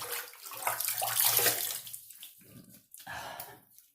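Running water splashes over a double-edge safety razor, an Edwin Jagger DE89 with a chrome blade, as it is rinsed at a sink between shaving passes, close and steady with brief gaps and faint breathing.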